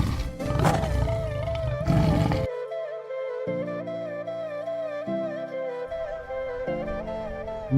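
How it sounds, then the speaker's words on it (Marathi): Tiger roaring at a zoo safari park near Kolhapur, a loud deep roar that ends abruptly and gives way to a sustained tonal drone with stepped low notes. "जेव्हा वाघाची डरकाळ ऐकतो तेव्हा अंगावर शहारे उभारतात"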